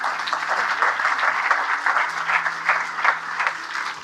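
An audience at a sermon claps in a steady, continuous wash of hands, moderately loud and close, with no speech over it.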